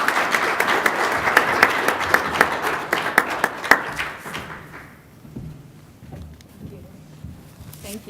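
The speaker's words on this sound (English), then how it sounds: "Let's give her a big round of applause." Applause from an audience at a workers' comp event welcoming a speaker: loud, crisp clapping with distinct sharp claps for about four seconds, which then fades quickly into a quieter room where faint voices and movement can be heard.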